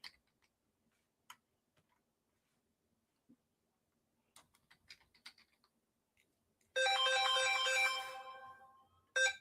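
A phone ringtone bursts in loud and bright after several seconds of faint scattered clicks and taps, rings for about two seconds while fading slightly, then starts again at the very end.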